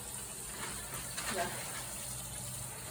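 Water runs from a tap in a steady, soft gush, close by, wetting a disposable cloth in a communal bathroom, with a faint splash midway.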